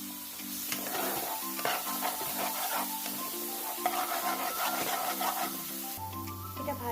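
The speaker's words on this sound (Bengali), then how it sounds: "এরপর এটা ভালো করে কষাতে থাকবো ততক্ষণ না তেল বেরোবে পেঁয়াজটা ভাজা হয়ে।" Chopped onion sizzles in hot oil with salt, turmeric and chili powder for a pomfret curry, a steady close-up frying hiss broken by scraping stirs, with soft music underneath.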